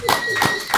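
A few sharp claps from an audience at a live talk on building a fanbase, brief and moderately close, overlapping with speech.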